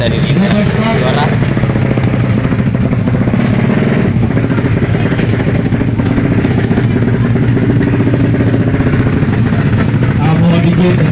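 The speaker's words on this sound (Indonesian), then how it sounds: "Motor yang diperiksa dari juara." A 155 cc drag bike engine runs loud and close at a steady rasping idle, with clattering mechanical noise, while a voice talks over it throughout.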